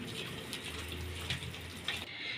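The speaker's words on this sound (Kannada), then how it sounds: "ಮೊಸರು ಕಪ್ಪಿಗೆ ನೀರು ಹಾಕ್ಕೊಂಡು ಹಾಕ್ಬಿಡ್ತೀವಿ ಎಷ್ಟು ಬೇಕೋ ನೋಡ್ಕೊಂಡು ನೀರು ಹಾಕ್ಕೊಂಡು ಗಂಟಿಲ್ದಂಗೆ ಕಲಿಸ್ಕೊಡೋಣ" Water poured into millet idli batter and stirred by hand, producing a continuous close trickling, sloshing sound with a few soft knocks and no talking.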